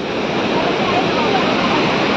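Steady, loud rushing roar of falling water, broadband and unbroken throughout, heard up close at Napne waterfall in Konkan.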